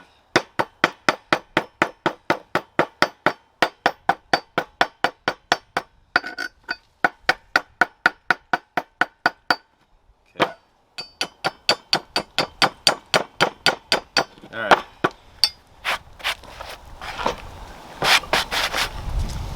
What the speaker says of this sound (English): Go ahead and chip your slag.